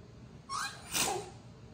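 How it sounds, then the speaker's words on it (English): A single small sneeze, quick and fairly soft, in two short bursts with a brief catch before the main release, heard up close in a quiet room. "Sneeze?"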